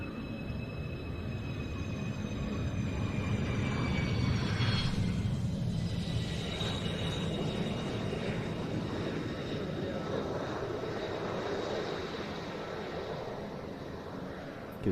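Moroccan F-16 fighter jet arriving at the Air Tattoo air show, a loud continuous jet roar with a whining tone that shifts in pitch as it passes, sustained and steady throughout.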